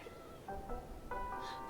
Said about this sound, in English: The kitten demands attention.